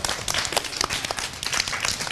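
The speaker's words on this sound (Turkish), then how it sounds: "Alkışlayalım." Audience applause welcoming the new year 2013 at a children's New Year's farewell show, a dense, lively burst of clapping from a crowd filling the room.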